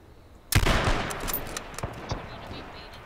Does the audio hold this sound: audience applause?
no